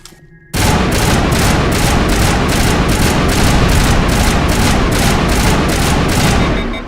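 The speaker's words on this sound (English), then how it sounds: "that's some sustained fire" Sustained automatic assault rifle fire from the video game Mass Effect 1 Legendary Edition, a loud, continuous rapid burst lasting several seconds with evenly spaced shots, starting abruptly after a brief quiet moment.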